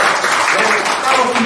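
Applause at a disability culture association meeting in Ansan as a lawmaker leaves: a short stretch of dense clapping from a roomful of people, steady and fairly loud, with speech mixed in.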